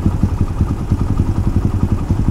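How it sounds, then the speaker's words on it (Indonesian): A police patrol motorcycle engine at a busy red-light intersection chugs in a fast, even, close pulsing rhythm, loud and steady throughout with no talk. "Apa tuh motor patrolinya barusan tuh, nggak bisa nerobos ini."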